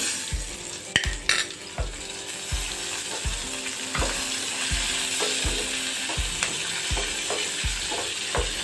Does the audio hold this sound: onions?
yes